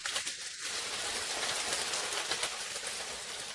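Steady rain falls in a soft, continuous hiss of drops, faint and even throughout, with a brief low murmur near the start.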